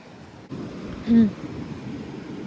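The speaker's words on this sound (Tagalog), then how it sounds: "Dahil nga ay mahangin. Yan yung beach." Strong wind buffets the microphone over a steady roar of surf, with a brief louder gust midway.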